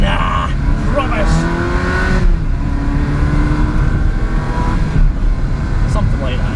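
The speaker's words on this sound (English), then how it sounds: "But the engine sounds good" Ferrari 360 Spider engine revving loudly up and down in a couple of surges, close and strong, while people talk over it.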